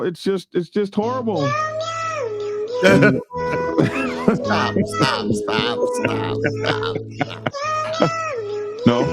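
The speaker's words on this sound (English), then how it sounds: "Yeah, that's a cat singing." A recorded cat yowls in a long, wavering, song-like run of meows that rise and fall, played loudly with people talking and exclaiming over it.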